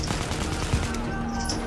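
Dense, continuous gunfire from the video game Battlefield 4 rattles at steady volume throughout, with overlapping automatic bursts filling the short stretch.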